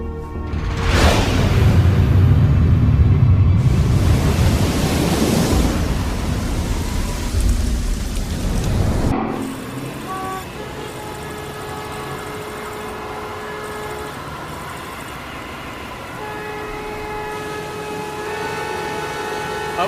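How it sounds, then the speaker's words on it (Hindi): Heavy storm rain pours loudly for the first nine seconds, with rumbling thunder-like roar, then cuts to a quieter steady background hum with faint tonal sounds. "तूफान आ रहा है।"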